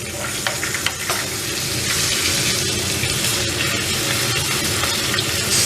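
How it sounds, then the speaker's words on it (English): A rack of lamb sizzles loudly in hot fat as it is basted, a steady, dense frying hiss with occasional clinks and spoon scrapes close by. "Start basting just like this."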